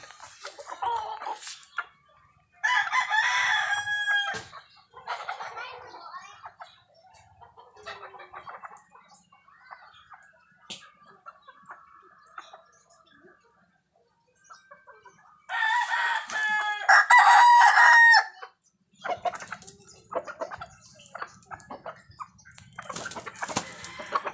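Roosters crow loudly in several bursts with clucking hens between, close by and outdoors, with no talking.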